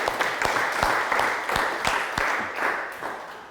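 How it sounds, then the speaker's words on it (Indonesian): Schoolchildren clap in a classroom at the end of a lesson, dense, continuous applause with a few rhythmic pulses, close and lively throughout. "Mari kita beri tepuk tangan untuk diri kita sendiri."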